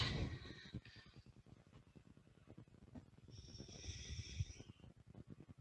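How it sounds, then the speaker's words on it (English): Slow, audible oceanic qi gong breaths with a raspy, throat-constricted hiss on each exhale, steady and close, with no talking. "You're going to hear me doing some oceanic breathing, closing up the back of my throat when I exhale."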